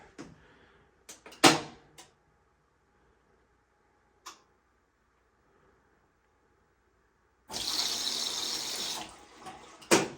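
A few clicks and knocks, then hot water suddenly rushes into a Bosch washing machine at full force for a couple of seconds, loud and close, before cutting off.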